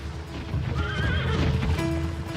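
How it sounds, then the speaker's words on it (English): Horses whinny loudly, with a rising, wavering neigh at the midpoint and a short one near the end, over a steady clip-clop of hooves close by and no talk. "Imagine these early horses being brought over."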